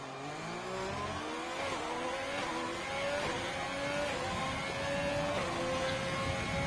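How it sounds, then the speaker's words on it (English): A race car engine screams past in a sim racing game at the Vietnamese Grand Prix circuit, loud and steady, with the revs climbing through several gear changes as it blows by another car on the back straight. "He blows by another car on the back straightaway."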